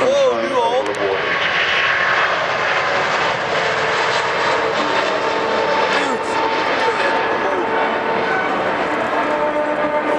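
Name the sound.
Airbus A380 jet taking off at Paris Air Show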